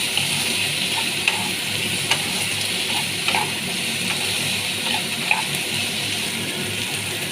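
Ginger, garlic, green chilli and tomato frying in a pan: a steady, dense sizzle with occasional soft clinks as the mixture is stirred, and no talking.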